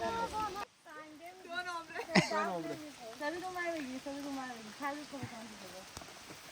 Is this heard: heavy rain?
yes